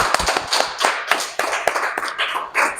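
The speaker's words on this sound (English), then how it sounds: "another round of applause for her" A small audience at a wellness coaching event claps for a speaker, close and loud, uneven rapid clapping throughout with no talking.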